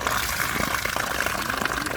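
Rainwater flowing in a steady gush where fish swim upstream against the current, close and continuous with light splashing throughout.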